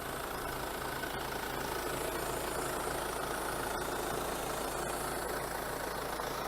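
A diesel engine in a 2014 Mercedes C250 AMG Sport idles steadily, a constant low rumble with an even tick, unbroken and close throughout, with no knocks or rattles.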